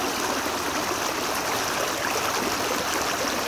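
A stone gets rinsed in flowing water at a Keen A52 gold sluice, a steady close-up rush and splash of water that fills the sound evenly with no pauses and no voices.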